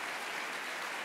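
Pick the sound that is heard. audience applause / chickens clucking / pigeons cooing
audience applause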